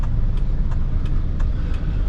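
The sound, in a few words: car traffic in Jakarta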